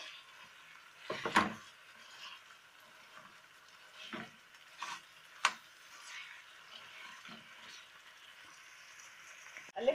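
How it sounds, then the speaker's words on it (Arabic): Minced meat fries with onions in a pan while it is stirred: a soft, steady sizzle runs throughout, with a few sharper scraping clicks from the utensil. "هنزل عليها بربع كيلو لحمه مفرومه هقلب اللحمه المفرومه كويس جدا مع البصل"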